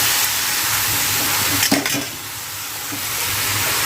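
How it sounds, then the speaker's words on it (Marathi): Spinach, added to potatoes with chilli and spices, is stirred and mixed in a frying pan, giving a steady hiss of sizzling with a brief burst of spoon scraping midway. "तर आपण त्या पालकला ना चांगलं असं मिक्स करून घेऊया"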